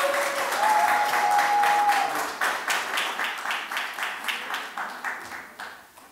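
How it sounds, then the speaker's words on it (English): An audience at a youth council debate applauds the debaters, the clapping starting as a dense wash and then thinning into distinct individual claps that taper off toward the end. "Can the audience please give them another round of applause?"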